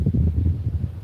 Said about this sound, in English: Got windy out here all of a sudden.